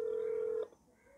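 A single steady telephone keypad tone for the digit 9, entered while calling Airtel customer care, holds loud and alone for about half a second before cutting off to quiet line hiss.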